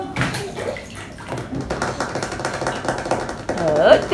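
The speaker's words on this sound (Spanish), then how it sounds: "Está fascinado con el grifo, con la ducha" Water runs from a bathroom tap and shower in a home bathtub with a small child, a steady splashing flow that swells near the end, while voices talk over it.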